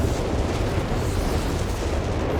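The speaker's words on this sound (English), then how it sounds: "And rockets flying through the air" Rocket barrage explosions in the video game Company of Heroes 3, a steady rumbling wash of blasts and booms blending into a thick, continuous roar without distinct pauses.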